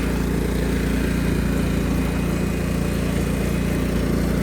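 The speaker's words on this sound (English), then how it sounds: "The engine's nice and warm. It has been sitting here running for about, I don't know, close to an hour." A warmed-up 1999 Cub Cadet HDS 2135 riding lawn mower engine runs with a loud, steady, close drone that holds constant throughout, with no talk.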